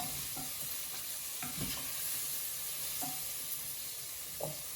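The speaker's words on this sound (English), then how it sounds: "Can't stir risotto left-handed." Risotto being stirred in a pan, soft repeated spoon scrapes against the pan over a steady gentle sizzle, close and fairly quiet, with no talking.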